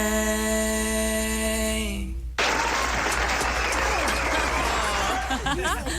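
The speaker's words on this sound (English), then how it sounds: "Liking that applause right there." Studio audience applause at a live music show bursts in after a sustained held tone and keeps going steadily, dense and close, with a little chatter and laughter mixed in.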